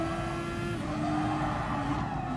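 A race car in an FIA Nations Cup racing video game drones with a steady, strained engine note as it powers out of a turn, with faint tyre noise and no voices.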